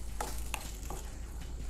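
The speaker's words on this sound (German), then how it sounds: "und zu der angeschwitzten Zwiebel gibt es jetzt Grünkohl" Kale added to onions sweated in a pan, cooked for a stew with potatoes, bacon and sausage: a low steady sizzle with a few soft stirring scrapes and clinks, moderately quiet and without speech.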